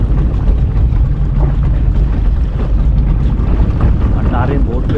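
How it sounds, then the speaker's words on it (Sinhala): A boat moving toward the listener across open water, with steady wind buffeting the microphone and a continuous low rumble throughout, loud and unbroken. "අන්නාරේ බෝට්ටුව ඇදිලා එනවා පේනවනේ"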